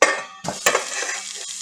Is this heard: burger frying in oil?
yes